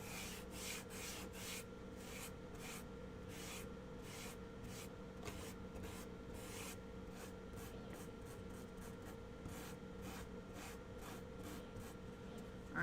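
Hand sanding with sandpaper on a wooden craft sign painted with an American flag and daisies, clearing built-up red paint; steady close rubbing strokes repeat in a continuous scratchy rhythm, with no talking.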